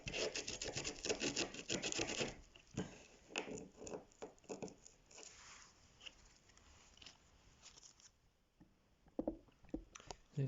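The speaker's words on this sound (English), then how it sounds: "Just sanding the edges back a little bit so the resin can bond in there." The spongy, peeled edges of a surfboard ding are sanded back by hand before resin repair, giving irregular rubbing and rasping strokes, close and fairly quiet, busier at first and then sparser with pauses.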